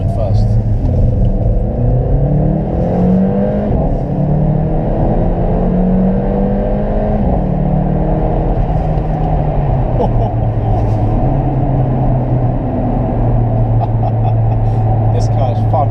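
A Mercedes CLA45 AMG accelerating hard at full throttle, heard from inside the cabin, with the engine note climbing steadily through the gears as a continuous loud roar, with brief pitch drops at each shift.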